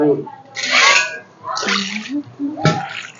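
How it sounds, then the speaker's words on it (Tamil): Water splashes and pours in short bursts while fish are washed outdoors in Thoothukudi, three close splashy gushes with people talking between them. "சரி தண்ணி ஊற்றி ஊற்றி கழுவு"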